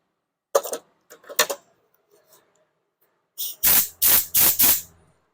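Spray can blasting through a cleaned part on a 1985 Honda V65 Magna motorcycle: a few short bursts of clatter first, then four loud, close hissing sprays in quick succession.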